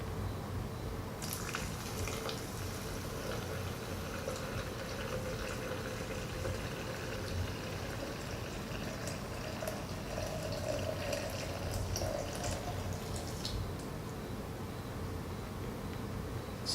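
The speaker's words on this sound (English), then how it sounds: "And then I need to pour in 2 cups of water, which I have measured out, filtered water" Filtered water is poured for brewing coffee, a soft steady trickle and splash running quietly throughout, with faint dripping and small clinks on top.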